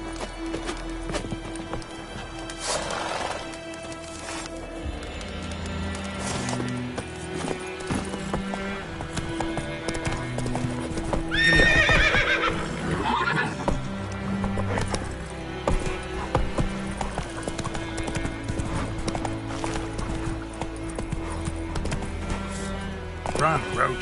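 Roach the horse gallops with steady clip-clop hoofbeats in The Witcher 3 video game, heard alongside game music and speech, with a brief burst of louder activity midway that may hold a neigh.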